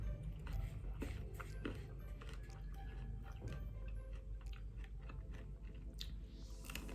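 Crunchy food being chewed close up in a quiet hotel room, with a run of soft, irregular crunching bites over a faint steady background hum.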